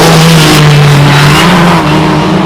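A historic Formula Ford race car at Cadwell Park roars close by, its engine loud and steady with a rising then slightly falling pitch as it accelerates past.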